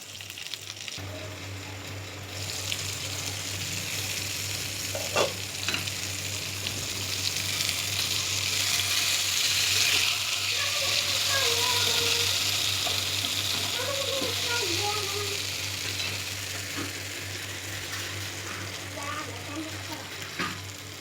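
Kerala-style karimeen, pearl spot fish, frying in a pan with a steady, loud sizzle and hiss that runs throughout, marked by occasional faint clicks and a low constant hum.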